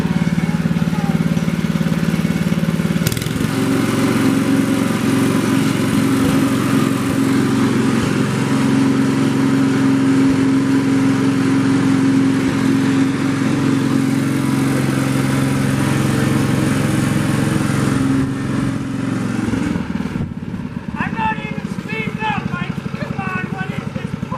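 An old International Harvester Cub Cadet lawn tractor engine drones steadily and loudly throughout, idling close by, then cuts off near the end, leaving quieter background noise.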